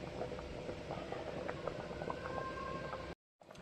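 Rice boils in a pot on a home stove, a steady, close, bubbling hiss with soft pops and patters that runs without a break before a short silence near the end.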